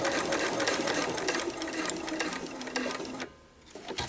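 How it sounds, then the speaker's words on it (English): A sewing machine runs steadily while stitching a fabric placemat, a loud, close, continuous mechanical whir that slows and softens near the end as it approaches a corner. "I'm going to take one more stitch and then turn."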